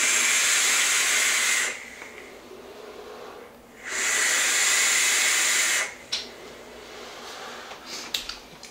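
A vape coil firing on a Geek Vape Tsunami bottom-airflow RDA with a 0.1-ohm build at 90 watts makes two loud, close, sustained hissing sizzles of several seconds each, separated by a short pause, with faint clicks afterward.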